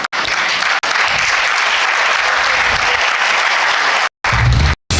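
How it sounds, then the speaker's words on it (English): Sustained applause from an audience at an alumni awards ceremony as dignitaries walk to the dais, a steady dense clapping that breaks off briefly near the end and then resumes. "May there be a big round of applause,"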